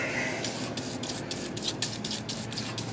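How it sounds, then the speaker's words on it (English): PB Blaster penetrating oil sprayed from an aerosol can onto a rusty mini lathe during a restoration, heard as a steady close hiss made of several short bursts with brief breaks. "spray it down with some PB Blast right here"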